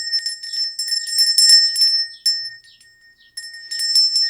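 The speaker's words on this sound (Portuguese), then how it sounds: "Atenção pro sino." A bell rings in the 2025 film Frankenstein, with steady high ringing tones and shimmering bursts of tinkling strikes that fade briefly near the middle before resuming, clear and without speech.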